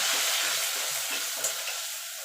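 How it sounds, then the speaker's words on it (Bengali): Whole spices for a paneer and capsicum curry sizzle steadily in hot oil, a close, even hiss with faint stirring scrapes and no voices. "ফোড়নে ফোড়নটা একটুখানি ভাজা ভাজা করে নেবো"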